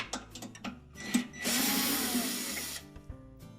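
A screw being backed out of the element bracket on a Whirlpool cooktop with a power driver, heard as a loud steady whir lasting about a second and a half, set among short clicks and taps of handling.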